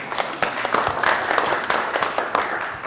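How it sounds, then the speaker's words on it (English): Audience applause at an interview event with space pioneers, a steady patter of many hands clapping at moderate loudness for the whole stretch, with a voice murmuring faintly underneath. "It's okay based on the applause, but at least you got applause."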